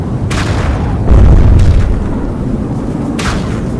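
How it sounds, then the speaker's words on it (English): Missile bombing explosions in a video game: a heavy, loud boom swells in the middle and rolls off, with sharper blasts and crackles before and after over a constant rumbling battle din. "Another missile bombing coming."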